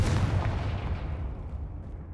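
A Confringo spell explosion from the Hogwarts Legacy video game booms once, a loud blast decaying into a fading rumble.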